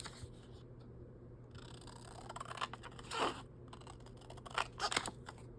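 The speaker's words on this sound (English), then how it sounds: "Let's cut out all these tags." Scissors snipping out small printed paper tags for a mini junk journal, a few faint, quick cuts and rustles that grow clearer toward the end, close and quiet over a soft room hum.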